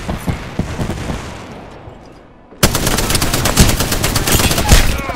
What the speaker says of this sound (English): Stand back, knuckle clusters firing.